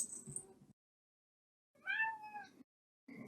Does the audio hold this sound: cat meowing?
yes